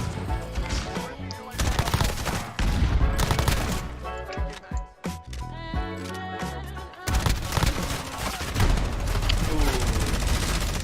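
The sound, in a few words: gunfire in video game Call of Duty Modern Warfare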